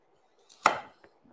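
A knife makes one crisp chop through a carrot on a cutting board while slicing it into thin, angled strips, followed by a couple of faint taps.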